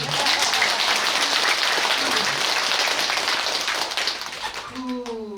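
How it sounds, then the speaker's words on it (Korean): An audience at a Buddhist temple ceremony for consecrating statues claps in a loud, dense burst that gradually fades, and a voice speaks as the clapping dies down at the end. "박수 한 번 더 치세요."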